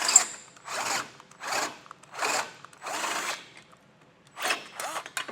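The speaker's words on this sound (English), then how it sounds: "as we drill this out, you can use, if you're careful, you can use this drill bit." A power drill whines in about six repeated bursts, each under a second, close up with short pauses, enlarging a hole in a 2013 Mini Cooper while fitting a tow base plate.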